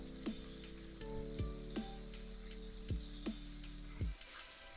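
Chicken breasts sizzle in a frying pan for Monterey chicken, a steady broadband crackle with a low hum beneath, broken by several sharp clicks and knocks of utensils against the pan; no one speaks.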